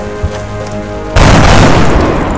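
Gunfire in the turn-based strategy game XCOM: Enemy Unknown: a sudden loud, dense blast cuts in midway and rolls on as a sustained heavy roar over quieter game ambience.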